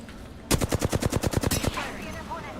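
A burst of rapid automatic gunfire in a video game, roughly a dozen sharp, evenly spaced shots in about a second and a half, followed by fading echoes and faint mechanical sounds.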